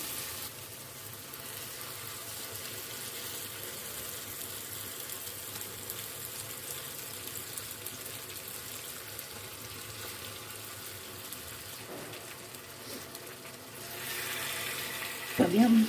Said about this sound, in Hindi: अभी हम मसाले में फ़िश ऐड कर देते हैं।